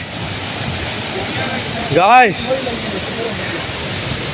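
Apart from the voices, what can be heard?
waterfall rushing water in forest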